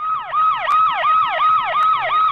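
Emergency siren wailing in a rapid repeating up-and-down pattern, loud and close, cycling about every half second with no talk over it.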